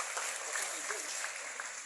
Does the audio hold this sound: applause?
yes